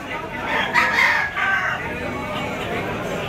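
Yellow-legged sweater-cross gamecock bull stag at a gamefowl market in Lipa, Batangas, giving one loud, near crow midway through, with crowd chatter and other birds in the background.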